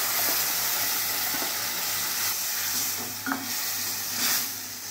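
Ground masala paste sizzling in a pan with browned onions and turmeric, a steady loud hiss of frying with occasional soft stirring scrapes, no voices.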